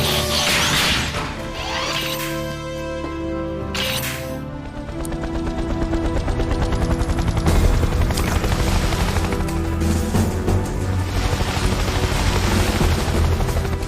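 Cartoon rescue-bot helicopter rotors thrum in a rising, steady beat under dramatic music and whooshing effects, growing louder and more insistent over a water crossing.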